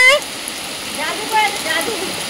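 Heavy rain pours down outdoors around a cooking fire in an earthen stove, a steady broad hiss close by, with voices talking over it.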